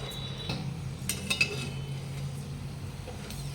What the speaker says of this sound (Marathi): काजू तळून घेऊया काजू तळताना कमी गॅस करायचं